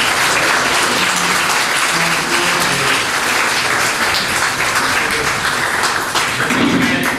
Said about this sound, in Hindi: तो सबसे पहले आप खुद के लिए एक जोरदार ताली मारें